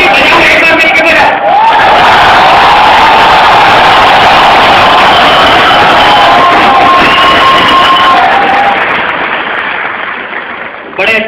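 Large audience at a Hindi comic poetry recital at a technical university claps and cheers loudly and continuously, a dense roar of applause with whoops that fades slightly toward the end.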